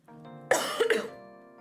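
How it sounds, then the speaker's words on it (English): A single close cough, sharp and throaty, with a brief rasp trailing off against a soft steady background hum. "1 second, because I need to cough."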